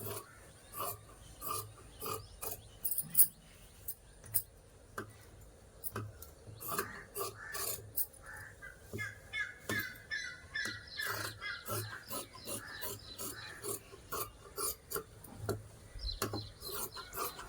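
Scissors cutting blouse fabric along marked lines, a series of crisp, close snips in an uneven rhythm, with no talking.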